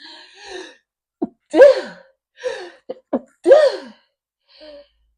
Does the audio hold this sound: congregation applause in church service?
no